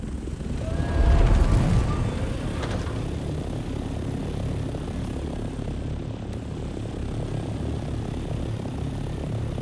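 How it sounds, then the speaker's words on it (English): Pocket copter flying in a video game, heard as a steady, loud propeller and engine drone that holds evenly throughout, with a brief louder swell near the start. "Holy pocket copter, right? Yeah. It's my pocket copter."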